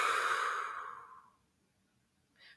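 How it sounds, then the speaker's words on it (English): A person breathes out deeply in one long, close, airy exhale that fades over about a second, followed by a faint short breath. "And I want you to breathe out."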